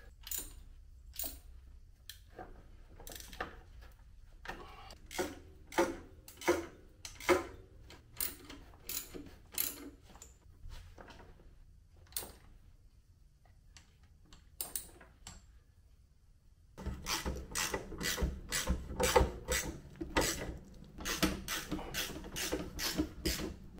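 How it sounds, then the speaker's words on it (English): Ratchet wrench tightening bolts during final assembly of a rebuilt Kawasaki Bayou ATV, heard as close, rapid metallic clicking in repeated bursts, growing denser and louder toward the end, with no talking. "Now I'm just gonna go around and tighten everything up."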